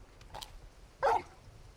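Torgal, a big wolf-like hound, gives a short, loud bark after a faint yip, close by against quiet ambience.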